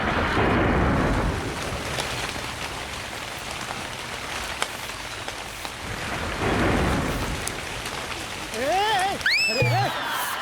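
A sudden rain shower pours down with rolling thunder, the hiss of rain swelling and easing while voices speak over it.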